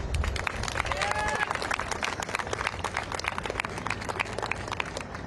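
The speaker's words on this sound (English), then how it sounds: "So a round of applause for this speaker." Crowd applause and cheering at an outdoor student protest in Washington, D.C., a dense, steady wash of clapping with crowd noise throughout, loud and close.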